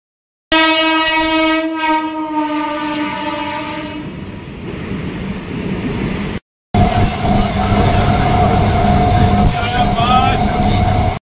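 A train at Bardhaman railway station sounds a long loud horn, then rumbles and clatters nearby, with a brief gap before the rolling noise continues.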